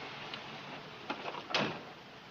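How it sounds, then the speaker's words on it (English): A door pulled shut indoors, a soft swish and a couple of light knocks building to a firmer close near the end, heard alone in a quiet room. "would you mind closing the door?"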